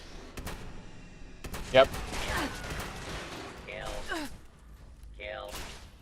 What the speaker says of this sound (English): I'm just gonna shoot the robots with this shotgun.